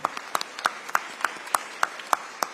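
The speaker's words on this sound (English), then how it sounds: "round of applause for all 7 of our candidates here this evening." Audience members at a Houston mayoral candidates' debate clap in a thin, fairly regular patter of distinct claps, close and moderately loud. Only a few people seem to join in, and no voices are heard.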